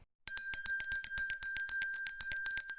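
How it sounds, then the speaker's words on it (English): A big shop door bell rings over and over in a fast, even rhythm, bright and metallic, each strike ringing on briefly before the next. "Then the big bell rang"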